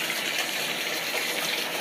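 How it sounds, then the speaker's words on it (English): Water gushing steadily from a tap into a bathtub as it fills, a loud, continuous broadband rush with no pauses and no voices. "We're filling up the bathtub."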